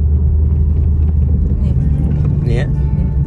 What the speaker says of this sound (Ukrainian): Юля, машина їде нормально?